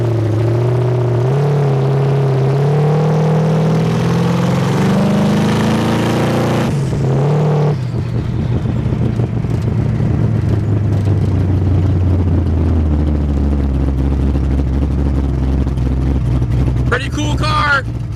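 A 1971 Chevrolet Vega GT with a twin-turbo 350 V8 and a turbo 400 automatic idles loudly, revs up, then drops back to a lumpy rumbling idle, with a person talking over it.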